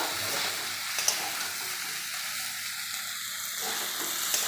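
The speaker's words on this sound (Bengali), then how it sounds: "এবার আলুগুলো দিয়ে দেবো। দিয়ে এবার ভালো করে নেড়ে নেব।" Potatoes being stirred in a frying pan while making a sour-spicy fish dish, a steady close sizzle of hot oil with soft scraping and a couple of faint utensil clicks, no voices.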